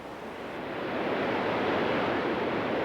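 Powerful flowing water of the Río Bueno, a steady broadband rush that swells slightly in the first second and then holds loud and constant, with no voices.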